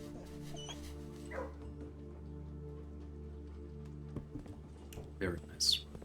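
A dog in the video game Blue Prince lets out a few soft whimpers and yips, faint against a low humming game soundtrack.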